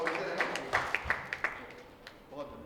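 Scattered, uneven clapping from an audience at a Hindi poetry recital, a handful of distinct claps close together that thin out and fade within a few seconds.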